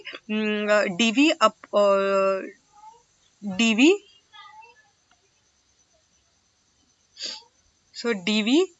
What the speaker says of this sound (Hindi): हमारे यहाँ बिल्ली है और वो काफी आवाज कर रही है